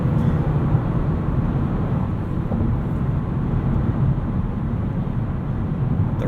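Steady, loud in-cabin drone of a 2018 Mazda3 Grand Touring with six-speed automatic accelerating through quick upshifts at highway speed, broadband road and engine rumble continuous throughout with no voices.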